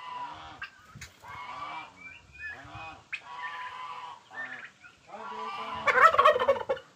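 Thirteen two-month-old turkey poults gobble and chirp in a busy chorus as they are let out into a ranging area, with calls close and overlapping and a louder burst near the end.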